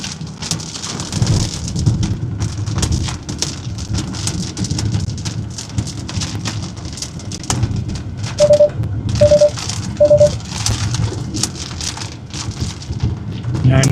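Heavy rain drums steadily on a car during a New Mexico storm, a dense loud patter that lasts the whole stretch, with a short repeated beep near the end.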